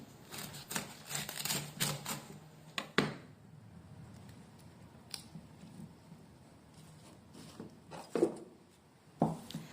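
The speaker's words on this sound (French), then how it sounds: "je retire cette partie-là qui est à l'intérieur, la plus dure, puis je le coupe en petits morceaux" A knife cutting cauliflower into small pieces, close crisp cuts and thuds on a board in an irregular cluster early on, then sparse louder chops after a quieter stretch.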